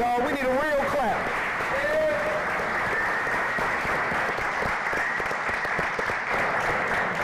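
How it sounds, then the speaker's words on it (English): An audience at a Black male development symposium applauds for a doctor standing up, steady clapping throughout, with a voice speaking and calling out over it at the start. "That's a golf clap, y'all. We need a real clap."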